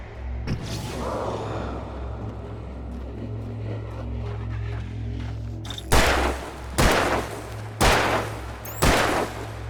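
Gunfire in Alan Wake Remastered: after a low droning rumble and one early crack, four loud, sharp shots ring out about a second apart, each with a short echoing tail.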